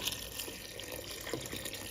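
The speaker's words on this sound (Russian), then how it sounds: "Заливаю фасоль достаточным количеством холодной воды." Cold water runs steadily into a pot of trimmed, cut green beans, a soft continuous splashing and trickling close by, with no voices over it.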